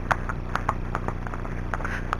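A Friesian horse jogs, its hooves striking in a quick, uneven clip-clop of sharp close knocks over a steady low background rumble, with no talking.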